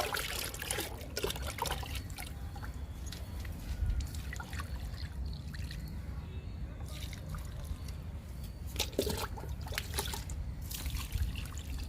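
Liquid fertilizer poured onto brinjal plants in a garden after rain, a soft, uneven trickle and splash of liquid onto soil and leaves that continues throughout, with a few sharper spills.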